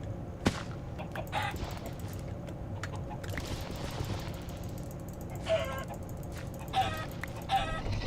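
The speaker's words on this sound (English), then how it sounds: "I prefer chickens because they take a lot less hits. There's some over here." Blocky chickens in the video game Minecraft give short, scattered clucks, a few distinct calls toward the end over a faint, busy game background.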